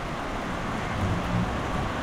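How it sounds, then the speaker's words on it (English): Heavy, warm tropical rain pours down in Sri Lanka, a dense and steady hiss of falling water that stays even and fairly loud throughout, with no voices. "A lot of rain."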